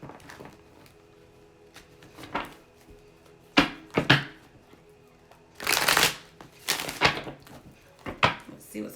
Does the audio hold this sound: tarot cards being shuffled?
yes